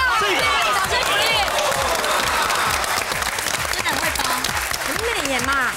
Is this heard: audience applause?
yes